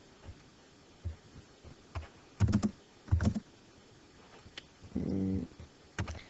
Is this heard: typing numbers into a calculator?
yes